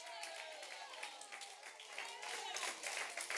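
Scattered clapping builds into steady applause from a church congregation during a sermon, growing a little louder toward the end.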